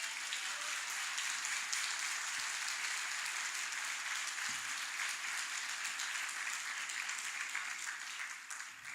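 Church congregation clapping as a sustained round of applause offered to the Lord, dense and even, slightly distant and tapering off at the end.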